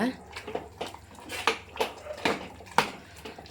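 Citron pickle being stirred with chili powder and coriander powder, a series of soft, irregular clinks and scrapes of a spoon against a pot, quiet and close, with a voice faintly present.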